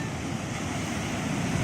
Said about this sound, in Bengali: এই দেখো কত বড় ঢেউ।